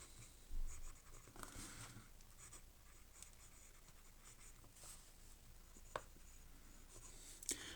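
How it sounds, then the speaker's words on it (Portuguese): A Faber-Castell Loom fountain pen scratches across paper in quiet, close strokes, soft irregular scritching with a few sharper taps, alone without talk. "É muito gostosa escrever essa caneta."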